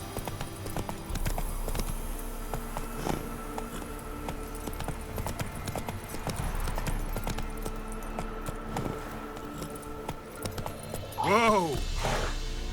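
Roach, a horse in The Witcher 3, clip-clops along in a steady hoofbeat rhythm through the whole stretch, with a brief whinny-like burst near the end over a game soundscape.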